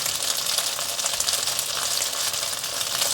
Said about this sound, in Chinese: 把面肠放进来煎